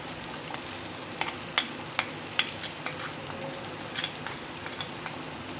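Ground chana dal paste frying in oil with onions, a soft steady sizzle broken by light spoon taps and stirring clicks, close and fairly quiet.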